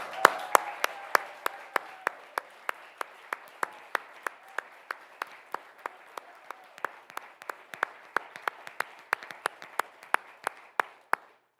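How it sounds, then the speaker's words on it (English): Sparse, crisp individual claps ring out steadily from a small audience at a clean car standards anniversary celebration honoring Fran Pavley, moderately close and continuing for the whole stretch before stopping. "We're going to give you a round of applause."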